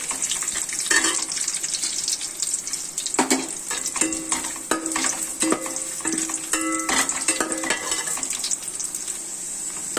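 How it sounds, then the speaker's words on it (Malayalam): Raisins frying in hot oil left from frying onions give a steady, close hiss of sizzling for the whole stretch, broken by repeated metal scrapes and clinks of a spoon stirring the pan. "ഇനി നമുക്കിതിലേക്ക് ആ എണ്ണയിൽ തന്നെ നമ്മുടെ മുന്തിരി വറുത്ത് എടുക്കാം"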